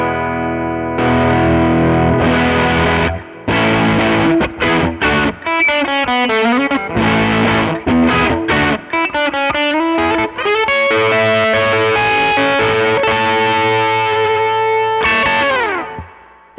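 An electric guitar plays through the extra drive voice of an overdrive pedal with the gain turned all the way down, producing thick, saturated, sustained chords and quick single-note runs, loud and close with no speech.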